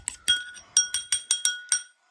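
A fork beats eggs in a glass bowl. About seven sharp, bright clinks ring out at a brisk, fairly even pace, close and clear, with near silence between them.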